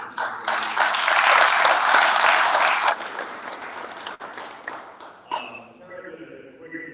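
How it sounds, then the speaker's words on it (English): Audience applause at a cybersecurity lunch-and-learn event, a dense burst of clapping for about three seconds that fades out, followed by a voice talking over a quieter room. "one more quick round of applause for all the sponsors and organizers."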